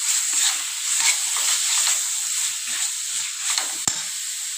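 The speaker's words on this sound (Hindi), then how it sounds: "तो अब हम इसमें डालेंगे थोड़ी सी कसूरी मेथी" Masala bhindi (okra) frying in a pan with kasuri methi added, giving a steady close sizzle with scraping stirs throughout and one sharp clink near the end, with no talking.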